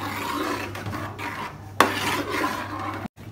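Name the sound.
stirring tomato ketchup mixture in a pan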